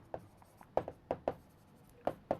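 Marker or chalk writing notes on a board, a string of short taps and strokes in uneven bursts, close and fairly clear with no talking over them.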